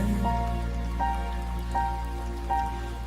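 Raindrops falling and dripping onto a surface, a steady wet patter over a low constant background, with faint recurring tones mixed in.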